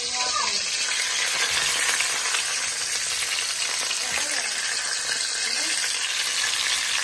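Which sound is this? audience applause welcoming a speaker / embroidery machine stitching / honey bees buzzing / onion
onion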